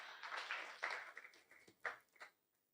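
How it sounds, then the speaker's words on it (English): An audience at a youth agricultural trade fair claps in a short burst of applause that thins into a few scattered claps and fades to quiet. "Let's give her one more round of applause"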